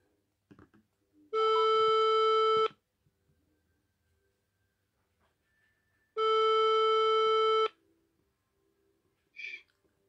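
Two long, loud electronic busy-signal tones from a telephone after a cut-off call, each lasting over a second with a pause between, followed by faint clicks and a brief beep.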